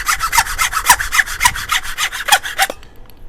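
A hand saw cuts wood on a workbench, with the piece braced against a chisel stop. About a dozen even back-and-forth rasping strokes come up close and loud, then stop abruptly before a short silence.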